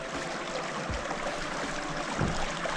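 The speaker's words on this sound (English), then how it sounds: "I just want to stop and show you the creek real quick" A creek that supplies water to Provo flows steadily on a winter trail at Big Springs, a continuous broadband rush and trickle with no talking.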